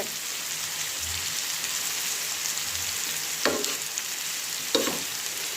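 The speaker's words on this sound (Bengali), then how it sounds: "এভাবে কিন্তু ভাজি করে ফেলে পেঁপেটা" Papaya pieces frying in a pan, a steady soft sizzle and crackle throughout, with a couple of sharper spatters and stirring scrapes partway through; no voices.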